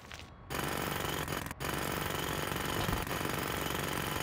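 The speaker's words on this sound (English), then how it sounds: "back with the jackhammer" A jackhammer in the Demolition Company game breaks concrete, a loud, continuous rapid hammering that starts after a brief lead-in and runs almost unbroken, pausing only for a split second.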